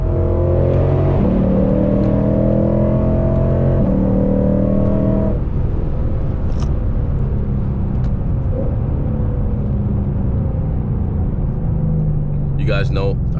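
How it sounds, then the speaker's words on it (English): A car cruising on a highway, its steady engine drone and road rumble continuous throughout, with people talking over it inside the cabin. "And we're finally on a fucking highway."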